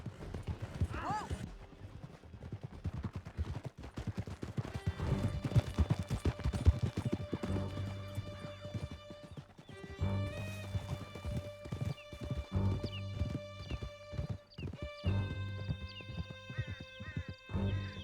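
A horse gallops in Red Dead Redemption 2 with a rapid, continuous patter of hooves and an occasional whinny, under shouted dialogue, game music and the rumble of a chase.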